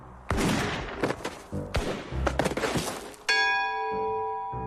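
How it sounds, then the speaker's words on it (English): Duelling pistols fire in a staged radio drama, sharp loud shots and thumps spread over a few seconds, ending in a lingering ringing bell-like tone. "You then give the command, and we turn and fire."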